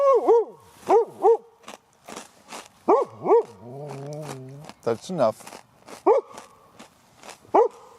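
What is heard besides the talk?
dog Dashy barking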